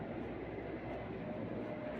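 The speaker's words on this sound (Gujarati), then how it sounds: "વિમાન જાય છે." An airplane passing overhead above a garden gives a faint, steady broadband roar heard from a distance, with no voices over it.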